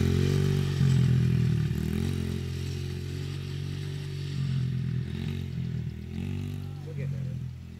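Motorcycle ridden by a first-day rider, a low steady engine drone with slight rises in pitch and a few clattering knocks, heard at moderate distance alongside voices.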